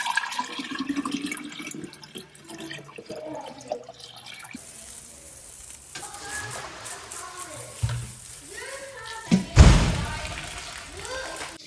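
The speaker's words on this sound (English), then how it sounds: "we are going to pour all the apple cider through that cloth to get any dirt and apple chunks out of it" Homemade apple cider poured through a filter cloth, a steady trickling and splashing of liquid with a heavier gush near the end, heard under ongoing talk in a home kitchen setting.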